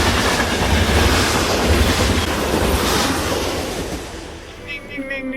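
A train rolls past a railway crossing on a bush trek with steady loud rumble and clatter of wagons, close by throughout, easing slightly near the end as brief squeals and bell-like tones appear.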